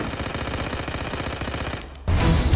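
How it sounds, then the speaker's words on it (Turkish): Rapid bursts of automatic gunfire in the Zula mobile shooter game, a steady rattling stream that briefly drops off before a louder, nearer volley resumes. "o silah sesleri ne lan?"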